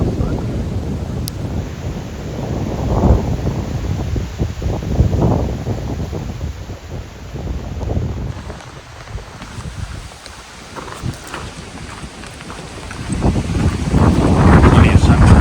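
Strong wind blows outdoors in a sunny, fire-burnt area with scattered trees, a loud continuous rumbling gusting over the microphone that swells and eases throughout and surges again near the end.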